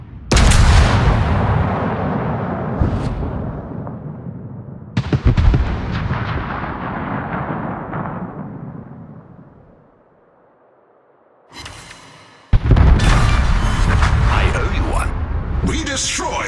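Naval gunfire from warships in World of Warships, heavy booming shots with long rumbling decays, repeated several times, briefly dropping to near silence before a loud new volley, with a voice talking over it.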